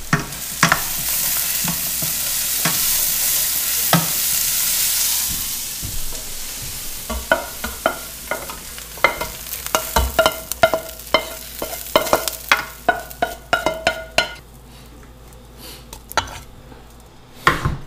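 Apple pieces sizzle and fry in a hot pan while cornbread dressing is made, loud steady hiss at first giving way to repeated clacks and scrapes of stirring against the pan, with no talking.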